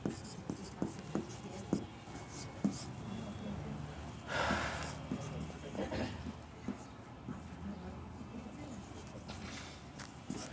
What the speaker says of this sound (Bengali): তাহলে এখানে 3টা জিনিস লিখছি